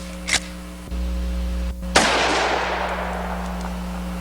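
A single loud firearm shot cracks out at sand-filled bottles, followed by a long decaying outdoor echo, with a couple of faint knocks just before.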